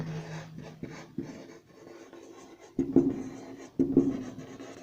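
Chalk or marker scratches across a classroom board during a chemistry lesson on aluminium chloride. Short irregular strokes and taps come close, with a few louder accents and no voice over them.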